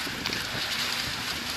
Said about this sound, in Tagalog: So medyo malakas-lakas yung hangin dito ngayon, no?